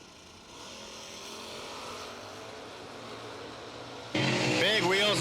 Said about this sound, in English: Big wheels up, launch a pair.